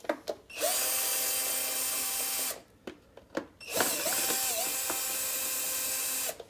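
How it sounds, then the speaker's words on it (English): A cordless screw gun backs screws out of a hoverboard casing in two long whirring runs, each several seconds long and loud and close, separated by short clicks and handling noises. "we take a screw gun and we"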